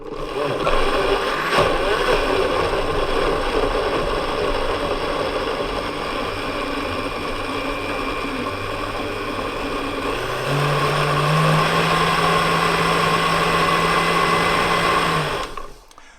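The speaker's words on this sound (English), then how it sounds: "that's blending fairly nicely now" Electric blender running a fruit smoothie, a steady high whirring motor hum that continues throughout, then shifts to a higher pitched, smoother tone near the end before cutting off, with no talking.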